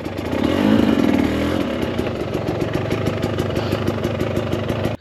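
A 2024 Husqvarna TE300 Pro dirt bike engine runs on a trail, a steady near buzzing putter with a brief rise early on, then an even, continuous chug.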